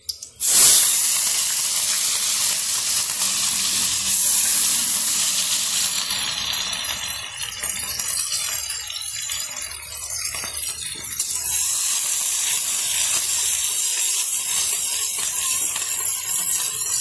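Green chilies dropped into hot oil with roasted cumin, a sharp initial hiss settling into a steady, loud sizzle that crackles on for the whole stretch, with no talking.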